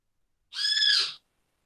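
A small bird gives one short, clear whistled call lasting under a second, alone against silence, heard in the background of a maths lesson.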